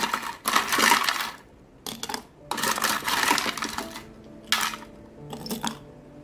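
Ice cubes drop into a cold soy milk and roasted grain powder drink in several separate bursts of clinking and rattling with short quiet gaps between them, close up and moderately loud.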